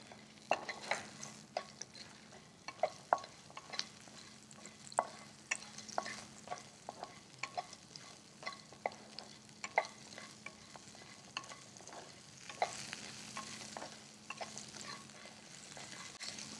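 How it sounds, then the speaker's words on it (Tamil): Small onions sizzle in hot oil in a frying pan while a spoon stirs them, with repeated scraping and clinking knocks over a steady fry; close up, no talking. "இந்த சமயம் நான் சின்ன வெங்காயத்தை சேர்த்துக்கிறேன்"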